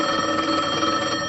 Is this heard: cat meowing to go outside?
no